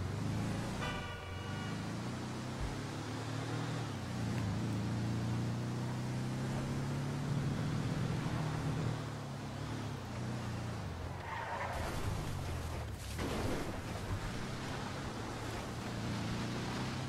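Cars in GTA V race along a mountain road, engines droning steadily while tires skid and squeal in long smeared bursts. A sharp screech and a thump rise near the end. No voices are heard.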